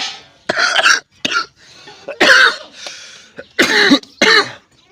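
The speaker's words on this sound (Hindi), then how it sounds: "आपको खांसी का आराम नहीं हुआ?" A woman coughs repeatedly in a home, several harsh close bursts in irregular clusters separated by short pauses, some sounding like throat clearing.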